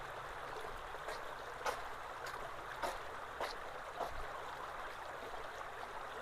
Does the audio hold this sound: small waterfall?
yes